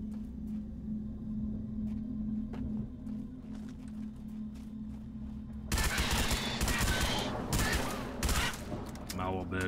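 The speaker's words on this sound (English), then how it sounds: "Gunfire." Quiet hum with scattered clicks, then sudden bursts of rapid automatic gunfire and shots in the video game Halo Reach, loud and close, with voices talking underneath.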